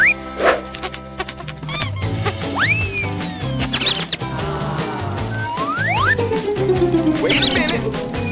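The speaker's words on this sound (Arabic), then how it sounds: "ماذا؟ هل هذا فأر؟" Cartoonish mouse squeaks in a kitchen cooking challenge come as rising and falling chirps mixed among clattering, zipping comedic effects and knocks, loud and busy throughout.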